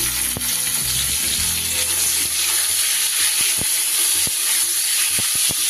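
Steady, close sizzling of salted tomatoes frying in hot oil for a hilsa fish dish, with a few soft clicks and scrapes of stirring.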